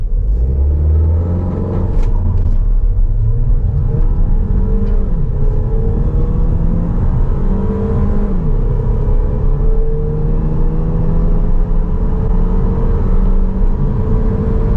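Fastback Limited Edition 1.3 turbo car in Sport mode accelerating hard from 0 to 100 km/h on a road, engine rising in pitch through several gear changes under loud cabin rumble, no talking.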